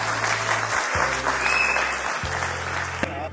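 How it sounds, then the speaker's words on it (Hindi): An audience at a Bhojpuri award show applauds loudly and continuously, a dense crowd of clapping heard over low hum and musical tones from the venue's sound system. "एक बार जोरदार ताली बजा दें।"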